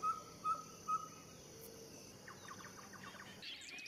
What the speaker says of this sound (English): rather agitated at the call of a pygmy owl